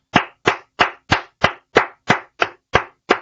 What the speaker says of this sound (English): Join me in giving a warm round of applause to our winners.